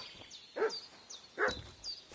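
A dog in Kingdom Come Deliverance 2 barks in short, sharp bursts, two loud yaps about a second apart with small yips and whines between them, fairly close and without talk.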